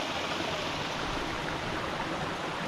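A waterfall and stream rush in a steady, dense, unbroken roar of flowing water, even in level throughout with no pauses or voices.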